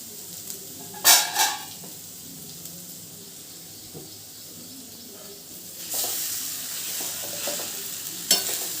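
Rice is tipped into cooked vegetables in a frying pan and stirred, giving a couple of sharp scrapes and clatters, then a swelling hiss of frying as the mixing continues.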